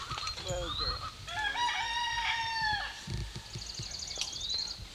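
Several rooster crows ring out in a barnyard flock that includes three roosters, the calls overlapping with scattered hen clucking and cackling, fairly close and loud, with a few low thumps and faint background voices.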